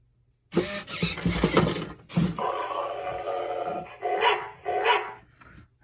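A $25 Buddy the Perfect Dog toy robot dog gives off a string of electronic growls and barks, loud and close, in several bursts with short gaps between them.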